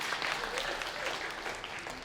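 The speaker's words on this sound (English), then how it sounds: "clap it up for AES real quick" Audience clapping for American Ethnic Studies graduates at a graduation celebration, a steady dense wash of many hands held at an even level for the full two seconds, with no voices above it.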